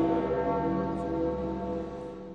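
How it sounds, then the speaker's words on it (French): A large church bell at Saint Peter's Basilica tolls a death knell, one deep sustained stroke with a rich humming hum that slowly fades, heard alone. "C'est accompagné par la cloche Saint-Pierre qui type sonne le glas"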